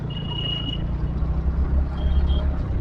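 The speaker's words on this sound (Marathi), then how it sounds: "बघा कार आले, बघा रिक्षाने बघा" A car passes along a road with a steady low engine and tyre rumble, while a thin horn-like tone rises briefly above the traffic noise.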